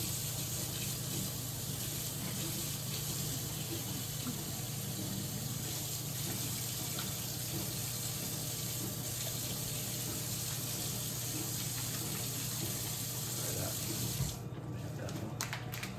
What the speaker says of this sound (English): So let's add some hot water.